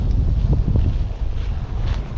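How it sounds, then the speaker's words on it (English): Gusty wind buffets the microphone on a lake bank during spring bass fishing, a heavy low rumble with faint lapping water underneath and no voices. "so very windy today, very windy."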